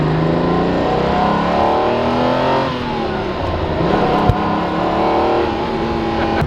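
A Lamborghini-style 5000 QV supercar at full throttle, its engine roaring loud and steady as it climbs through the revs, one brief dip as if shifting, then pulling on, close by with no talk.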